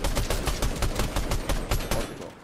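Rapid automatic gunfire in the Fortnite video game, a dense burst of sharp, loud shots repeating at a fast, slightly uneven rhythm for a couple of seconds.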